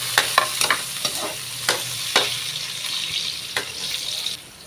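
Onions and tomatoes with garlic fry in a pan, a soft steady sizzle broken by several sharp utensil taps and scrapes, fairly quiet and close.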